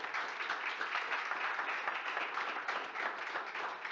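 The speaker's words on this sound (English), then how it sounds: "Indeed, a very well-deserved thank you and round of applause." A conference audience applauds the members of a working group, a continuous, fairly soft wash of many hands clapping at a steady level from start to end, with no speech.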